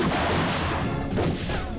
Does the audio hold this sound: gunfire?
yes